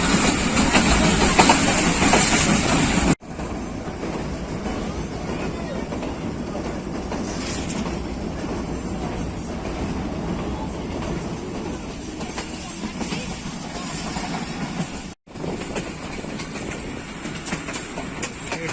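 Millat Express passenger train of Pakistan Railways running at speed, a loud continuous rolling roar with rhythmic clatter of wheels on rail joints, recorded from on board with brief abrupt drops in level.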